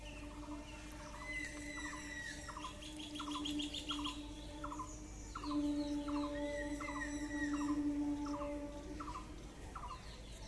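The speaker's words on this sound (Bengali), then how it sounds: "পাখিগুলো ডেকেই যাচ্ছে।" Birds call and chirp repeatedly in short, regular bursts just after rain under a dark, cloudy sky, with a steady faint tone running beneath; moderately distant and no talking.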